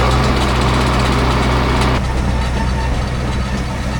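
A farm tractor engine runs loudly and close while chopping corn, a heavy steady drone with a dense harmonic hum that shifts to a lower, rougher tone partway through as the load changes.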